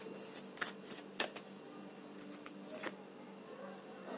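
Cards from a tarot deck being shuffled, handled and drawn, giving a run of soft riffling flicks and sharp snaps at an uneven pace, close and fairly quiet, with no one speaking.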